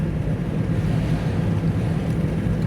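Boat engines rumbling low and steady through an open window, blended with wind and water wash, continuous and fairly loud with no talking.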